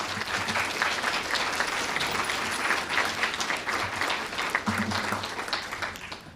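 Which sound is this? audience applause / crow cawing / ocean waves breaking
audience applause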